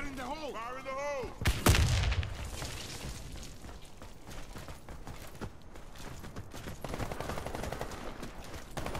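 A grenade blast in the game Warface, one sharp loud bang followed by scattered gunfire and rumbling, while players talk over it.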